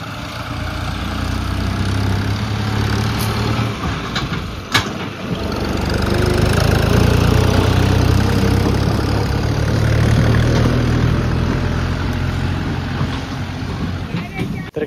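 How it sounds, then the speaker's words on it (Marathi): A loaded tractor hauling farm leaf litter out of a field, its engine droning steadily and loud throughout with a low rumble, with wind noise over the microphone. "ते बघा ट्रॅक्टर भरून निघालेलं आहे"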